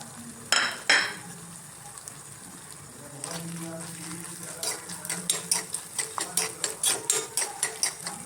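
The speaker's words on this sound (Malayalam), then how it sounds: "ആദ്യം ഞാൻ ഈ തേങ്ങ വറുത്ത് വരുവാണ്." Grated coconut is roasted in coconut oil in an iron frying pan, with a spoon scraping and stirring in a quickening series of metallic scrapes over a soft sizzle, some clatter early on.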